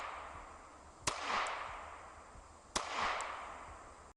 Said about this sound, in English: BB gun, that's a BB gun.